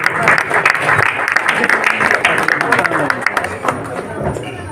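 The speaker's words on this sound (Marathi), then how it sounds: "त्यांच्यासाठी जोरदार टाळ्या द्यायचे आहेत" Enthusiastic applause from a crowd honoring people at a Ganesh festival gathering, dense clapping that swells and keeps going, mixed with crowd murmur.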